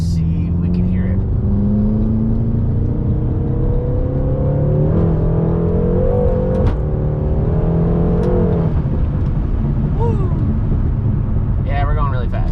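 BMW M6 Competition with catless downpipes accelerating hard from inside the cabin: a loud, continuous engine drone rises in pitch through several gear pulls, with brief shift breaks and a voice talking over it.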